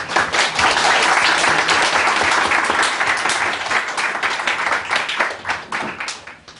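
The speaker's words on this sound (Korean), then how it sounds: "수고하신 김용만 회원님 위해서 박수 한번 칩시다" Audience applause for a member after a creation science seminar lecture at a Seoul church, dense steady clapping from a crowd that fills the room and tapers off toward the end.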